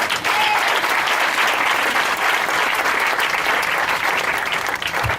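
A church congregation applauding, loud sustained clapping from a large crowd that continues steadily throughout with no break.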